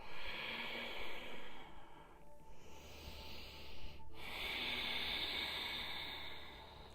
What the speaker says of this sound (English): Take a breath here